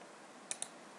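Two quick mouse clicks on a computer, close and fairly faint, spaced a short moment apart over quiet room tone, followed by a louder knock at the very end.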